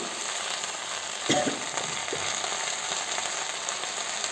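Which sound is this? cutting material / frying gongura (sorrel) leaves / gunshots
frying gongura (sorrel) leaves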